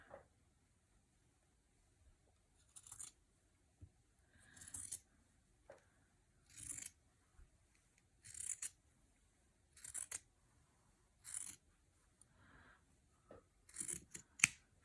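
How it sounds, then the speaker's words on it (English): Scissors snip through fabric scraps in a quiet room, about nine short, crisp cuts spaced a second or two apart, close and alone with no talk. "Let's cut the long one here."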